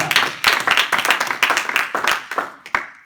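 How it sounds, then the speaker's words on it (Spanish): A church congregation at a Spanish-language service applauds with brisk, uneven clapping that is loud and nearby, and a few voices mix in under the hands. "¿Cuánto le damos un fuerte aplauso al Señor?"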